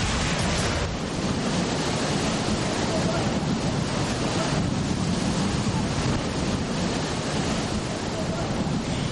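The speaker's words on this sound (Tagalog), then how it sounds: "Humampas ng malalaking alon mula sa Manila Bay ang Ross Boulevard" Large waves from Manila Bay crash against the edge of Roxas Boulevard in strong wind, a loud, continuous roar of surf and wind buffeting the microphone with no pause.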